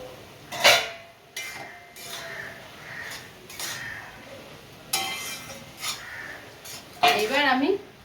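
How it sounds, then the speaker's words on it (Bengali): A metal lid lifted off a cooking pot of chalkumro (ash gourd) sautéing on the stove, giving a few light clinks and clanks of metal spaced through the clip against faint kitchen background. "এবার আমি ঢাকাটা তুলে দেখবো।"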